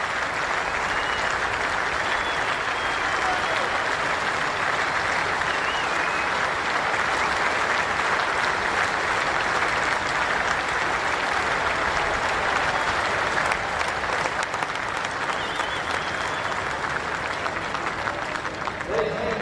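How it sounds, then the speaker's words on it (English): Steady, sustained applause from a cricket crowd and players at a Test match, honouring Kane Williamson's century against Australia, continuous and even throughout with no pauses. "Applauded by some of the Australian players as well."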